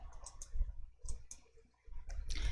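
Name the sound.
computer mouse clicking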